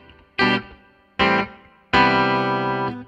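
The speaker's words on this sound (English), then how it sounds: "Just the spring reverb." An electric guitar through a spring reverb effect, mixed low, plays three distorted strums: two short stabs, then a longer ringing chord that fades slightly before cutting off.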